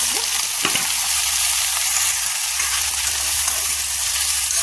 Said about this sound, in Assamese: আৰু এতিয়া এয়া কাটি লোৱা স্কচ আৰু আলুখিনি ইয়াতে ভাজি দিছোঁ